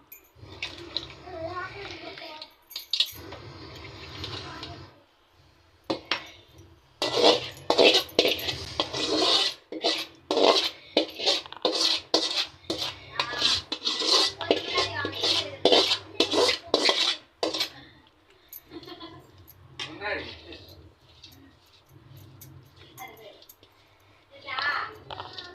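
Cooked meat curry is poured into a biryani pot amid clattering metal utensils, with scraping and clinking in irregular bursts, wet sloshing, and a person speaking intermittently over the kitchen noise.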